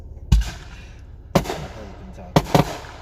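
Three fireworks go off in a residential neighborhood, each a sharp booming crack roughly a second apart, the last one doubled, with faint background murmur between the blasts.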